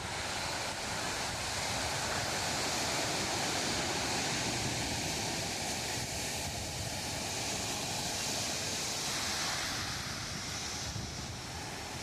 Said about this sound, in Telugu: చూడండి ఇక్కడ ఇంత అల్లలు చూడండి ఎలా వస్తున్నాయి దగ్గరికి